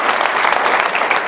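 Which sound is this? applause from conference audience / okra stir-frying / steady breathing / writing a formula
applause from conference audience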